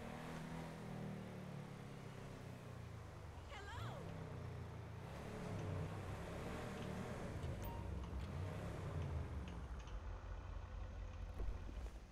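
Video game car driving in a GTA roleplay session, a steady low engine drone with some revving that holds throughout, while someone talks over it.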